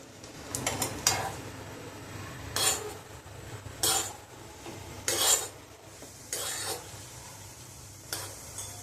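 Pepper and cumin frying and being stirred in a pan for millet pongal, with cashews already browned in it: several short scraping strokes of a spoon against the pan, spaced irregularly over a faint, steady sizzle.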